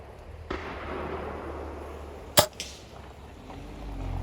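A single sharp, close crack from an FX Dreamline airgun in .22 (5.5 mm), tuned to 10 joules, firing a pellet, with a fainter echo just after it over quiet room tone.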